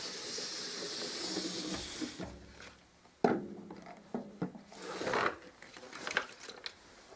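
A pressure sprayer loaded with diluted PVA hisses in long bursts, broken by brief clicks and knocks from handling the sprayer, at close range.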